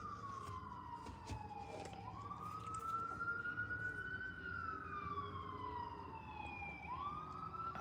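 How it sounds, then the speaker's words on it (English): An ambulance siren passing by, wailing in long rising and falling sweeps over a low traffic rumble, moderately distant and steady throughout. "Ambulance got their sirens on."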